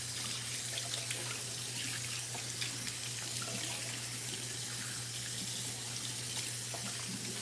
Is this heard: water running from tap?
yes